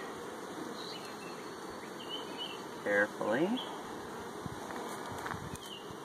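Honey bees buzz around an opened hive during a nuc split, a continuous low droning swarm with a short louder burst midway and a person speaking briefly nearby.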